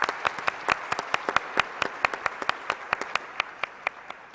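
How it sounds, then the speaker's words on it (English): Scattered applause from a modest audience at a space congress plenary session in Baku: sparse, distinct handclaps in an irregular rhythm over a quiet hall, moderately faint, with no voices. "Please give them a round of applause."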